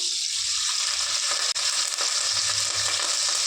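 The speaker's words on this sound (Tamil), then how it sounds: "குக்கரில் வேக வைக்கிறதுக்காகங்க வெங்காயம் போட்டு எண்ணெய் ஊற்றி சும்மா நாலு பீஸ் தக்காளி போட்டுக்கலாங்க" Onion, oil and tomato sizzle and fry steadily in a pressure cooker, a constant close hiss with occasional soft stirring knocks and no speech.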